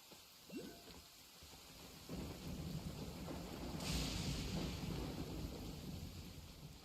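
Rain and thunder in a video game during the Navia story quest: a steady wash of heavy rain with deep rolling thunder that swells louder midway, heard alone with no talk.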